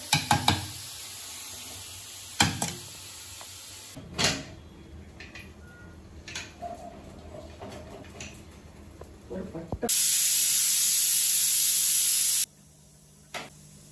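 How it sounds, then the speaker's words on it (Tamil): Pressure cooker holding mutton on the stove, with a few sharp clatters and scattered kitchen noises, then a loud, steady hissing jet of steam for about three seconds near the end before it cuts off. "3 சிட்டி அடிச்சிட்டுது. நான் நிப்பாட்டிட்டேன், பன் பண்ணிட்டேன்."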